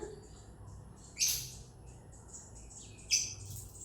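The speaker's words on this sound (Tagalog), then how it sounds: "Yan ang mga lovebirds namin." Lovebirds in green, blue and yellow give two brief, sharp high chirps after a bath, spaced about two seconds apart over a quiet, faintly hissing room.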